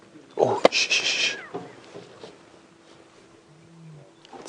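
A male big cat growls low and rough on an early-morning safari drive, building toward a roar, with a few sharp knocks and rustles and faint vehicle noise around it.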